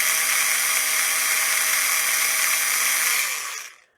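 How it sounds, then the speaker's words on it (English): A small battery-powered drill spins steadily for about three seconds while backing screws out of a Fender guitar, a close, continuous whine that winds down and stops near the end. "get you some kind of small battery powered drill"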